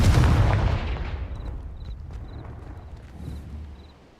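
Bombarda and Confringo explosion spells go off in the Hogwarts Legacy video game. A heavy booming blast opens and slowly fades, then a smaller thump follows, with faint chiming game effects in the background.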